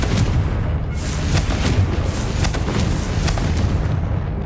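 A Confringo fire spell explodes in the Hogwarts Legacy video game, a dense, roaring blast that fills the whole clip with sustained rumbling booms and crackling bursts, loud and close, with no talking over it.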